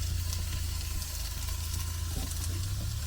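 Half-cooked vegetables and japchae noodles sizzling steadily in a pan over a camp stove, a constant close frying hiss with a low burner hum and no talking.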